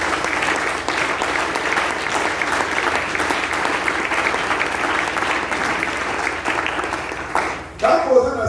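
A church congregation gives sustained, loud applause at a Sunday service, a dense and steady wash of clapping that fills the room and fades near the end.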